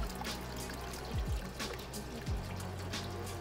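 Cheese curds and liquid pour into a cheesecloth, a soft trickling and splashing with a few brief dribbling drops, moderately close and without talk.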